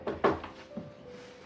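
Someone knocks from outside on a bedroom door in a drama film: a few hard, hollow raps, two close together at the start and a softer one later, heard nearby in an otherwise quiet room.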